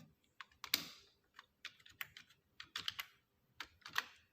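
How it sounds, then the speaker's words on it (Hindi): Typing on a computer keyboard in Microsoft Word: irregular bursts of crisp, close keystrokes with short pauses between runs, no voices. "मैं हिंदी में भी टाइप करूँगा।"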